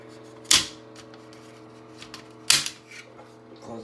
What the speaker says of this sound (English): Close the cover again. I hate that loud clicking.